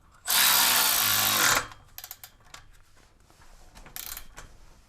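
A power tool tightens the downpipe bolts on a BMW E90, one loud buzzing burst of a little over a second, followed by faint clicks and rattles of tools and parts.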